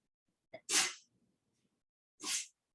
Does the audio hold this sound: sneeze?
yes